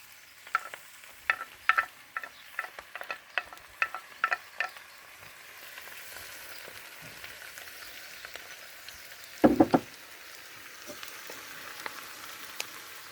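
Fresh greens dropped into melted butter give a soft, faint sizzle with a run of light stirring clicks and scrapes early on, then a quieter stretch broken by one brief louder clatter near the end.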